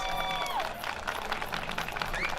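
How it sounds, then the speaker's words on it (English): A crowd at an outdoor block party and ribbon cutting on Vernon Road claps and cheers, a steady mid-distance wash of applause with scattered whistles and voices mixed in. "give Celine a huge round of applause"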